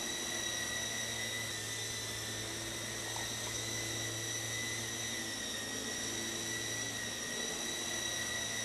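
An E-flite Blade CX3 RC helicopter hovers steadily at low level, its rotors and motor giving a continuous high-pitched whine with a steady buzzing drone, unbroken and even throughout.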